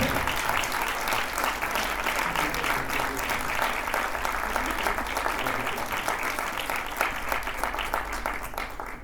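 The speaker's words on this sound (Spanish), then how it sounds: "Así que démosle un fortísimo aplauso a Alejandro." Sustained, dense applause from a large crowd, steady and loud for several seconds with no break.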